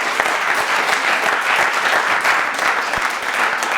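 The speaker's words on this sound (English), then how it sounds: "So one more round of applause." Sustained audience applause from a live crowd at a leadership talk, a dense steady wash of many hands clapping at even loudness throughout.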